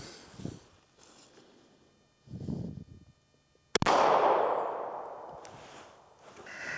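A single sharp 9mm pistol shot firing ball ammunition into a turkey outdoors, a loud close crack with a broad decaying blast, preceded by quieter rustling and handling noises.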